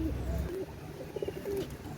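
Teddy-breed pigeons coo in short, soft throaty bursts near the microphone, a few separate calls over a low background hum.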